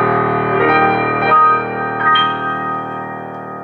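Kawai CA701 digital piano playing a few rich, deep-toned chords with a balanced, mellow sound, sustained notes overlapping with gentle swells, close and clear with no talk.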